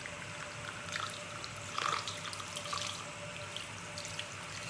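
Water runs from a faucet into a sink with a steady hiss and splash, rising briefly as something is swirled, quiet and close.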